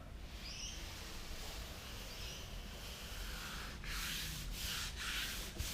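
A hand rubs across rough car paint with overspray and road grime, giving a soft continuous scratchy friction that grows slightly louder near the end, heard close and alone with no talking.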